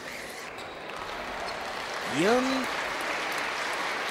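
Spectators at a Rilski Sportist versus Lukoil Akademik basketball game applaud in a steady, broad wash of clapping, swelling briefly at the midpoint, with a whistle-like tone and a commentator talking over it.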